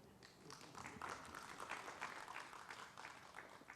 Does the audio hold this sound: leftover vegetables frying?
no